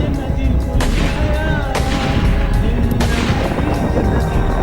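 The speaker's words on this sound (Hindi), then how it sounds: "उसके बाद दूसरी औरत फायरिंग करना शुरू कर देती है।" Gunfire from weapons training by YPJ women fighters: loud, continuous shooting with sharp reports standing out over a dense rumble, close and unbroken throughout.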